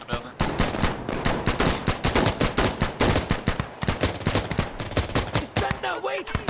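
Rapid, sustained gunfire from the Insurgency Sandstorm video game during a co-op match against AI, with dense overlapping bursts of automatic rifle shots close by and near-continuous, with brief voices at the end.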